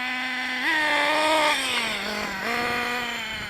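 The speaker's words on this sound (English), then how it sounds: "Right up to about half throttle." An RC car motor revving up to about half throttle, its whining pitch rising, holding, dipping and climbing again, loud and close throughout.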